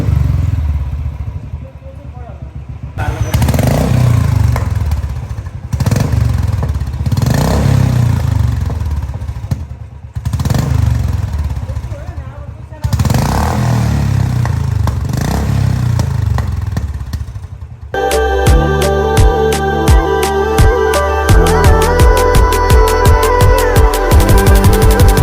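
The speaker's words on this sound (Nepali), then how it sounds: "बाइकको चाहिँ एक्जस्ट चेन्ज भयो" Royal Enfield Bullet Classic 350 motorcycle with a modified exhaust, idling with a loud, thumping engine note under people talking, followed by a stretch of loud music.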